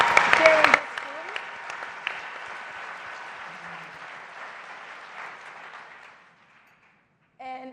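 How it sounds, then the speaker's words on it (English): Audience applause for Jewish student leaders in a large plenary hall at the AJC Global Forum, a loud burst of clapping at first that settles into sustained, even applause and slowly fades away, with a brief voice at the very end. "I really want to give another round of applause for all the Jewish student leaders that are at the forefront on campuses"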